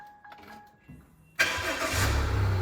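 A horsebox truck engine cranks and catches abruptly after a quiet pause, then settles into a loud, steady low idle close by.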